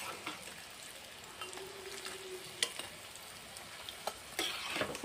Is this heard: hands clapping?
no